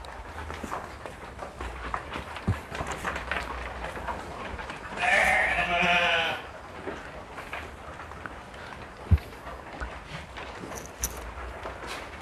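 Dorper sheep on a farm give one loud bleat in the middle, standing out against a busy background of other animal noises, rustling and occasional thumps.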